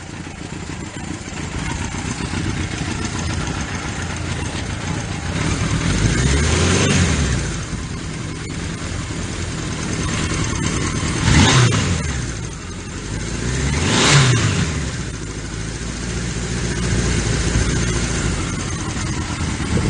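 A 1976 Kawasaki KZ900 motorcycle engine, freshly fueled, idling steadily with a rough, constant drone and swelling into three short revs that rise and fall back to idle.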